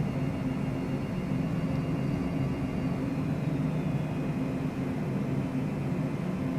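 A Citation CJ4 business jet's engines at a hefty throttle setting in Microsoft Flight Simulator, a steady, even roar with a low drone and a faint high whine, with no break and no talk.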